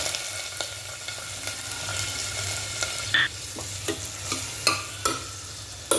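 Onions sizzle steadily in a little hot oil as they brown for a chicken curry, with a spoon scraping and clinking against the pan at irregular intervals.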